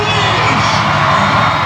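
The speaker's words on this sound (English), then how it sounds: "Big cheer from the crowd as Rettew comes out to accept the accolades" A big grandstand crowd roars and cheers at a monster truck show at the Westmoreland Fair in Greensburg, Pennsylvania, a loud, dense, unbroken wall of shouting and whooping.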